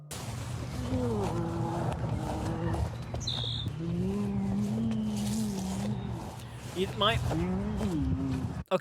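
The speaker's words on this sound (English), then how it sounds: "the moaning sounds like it's coming right from behind the camera" Long, low moaning tones rise and fall repeatedly, wavering and drawn-out over a rough outdoor background, fairly close.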